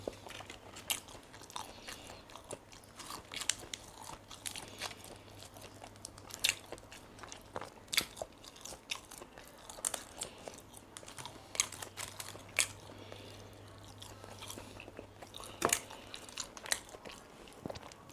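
Someone bites into and chews a ham pizza topped with plenty of chili, a steady run of soft crunches and wet mastication sounds close to the mic, quiet and continuous with no talking.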